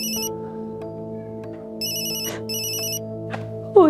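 A mobile phone ringtone plays indoors, a repeating electronic melody with steady sustained tones, close and clear, with a brief sharp sound at the very end.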